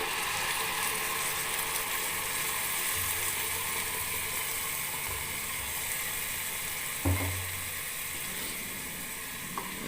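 Tomato paste ground in a mixer is poured into a hot pan for bottle gourd rice, giving a steady, close sizzle and frying hiss throughout, with a few brief stirring knocks.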